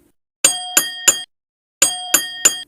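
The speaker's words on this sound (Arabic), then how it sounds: "وفجأة رن جرس الباب" Bright metallic doorbell chimes ring in two quick bursts of three strikes each, loud and close with a short pause between, against silence.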